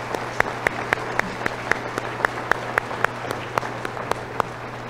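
Applause for graduates at a college commencement ceremony for allied health programs, a thin, even clapping from a seated audience in a large hall, with a few louder individual claps standing out over a steady low hum.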